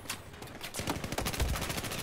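Battlefield 4 gunfire from a P90 face-off, a fast burst of rapid shots rattling close and loud over about two seconds, with no talk.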